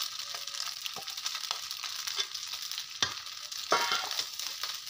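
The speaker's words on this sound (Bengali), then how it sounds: "ভাজা করে চালটা ভাজা হইতেছে" Rice grains frying in ghee for biryani, a steady close hiss and crackle with occasional stirring scrapes and clinks of a utensil against the pan, no voices.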